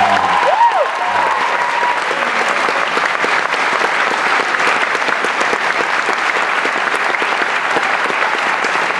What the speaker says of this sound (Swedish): Kan vi inte ge Amanda en applåd?